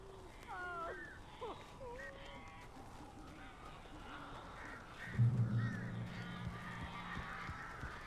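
Crows in Alan Wake Remastered giving a few harsh, wavering caws early on, then a low droning rumble rises midway as the birds fade into quiet ambience.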